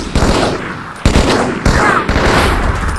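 Rapid automatic gunfire in the Halo 2 video game, loud and continuous with sharp bursts and a few heavier impacts punctuating the stream of shots.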